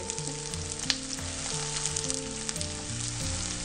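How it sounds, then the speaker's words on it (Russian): Onions sizzle steadily in hot oil in a pan, a constant crackling hiss with occasional pops, while quiet background music plays underneath. "Жарим его до мягкости."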